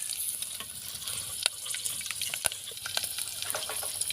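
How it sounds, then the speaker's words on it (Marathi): Dried red chillies frying with peanuts in hot oil for dal bhaji, a steady close sizzle with occasional sharp pops and crackles, no speech. "शेंगदाणे तळून घेतले त्यामध्ये दोन लाल मिरची टाकायची"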